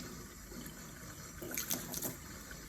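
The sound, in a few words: water rinsing a makeup brush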